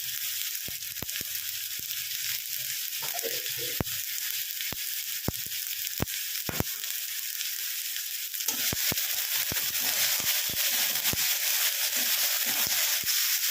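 Salted tomatoes fry in a pan with a steady bright sizzle, punctuated by sharp clicks and taps of a spoon against the pan and occasional stirring, growing slightly louder toward the end.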